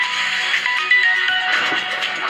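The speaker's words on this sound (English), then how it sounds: "That's what the ringtone sounds like" A phone ringtone sounds for an incoming call from an unknown caller, a steady, loud electronic tone with shifting melodic notes played close by and alone, with no talking.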